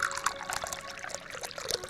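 Tea poured into a cup as a radio drama sound effect, a thin trickling stream with small splashes, faint and close, running steadily for a couple of seconds.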